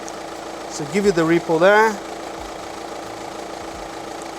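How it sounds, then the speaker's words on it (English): 12V car engine idling during a battery charging test, a steady low rumbling hum running throughout beneath someone speaking briefly. "Please start the engine."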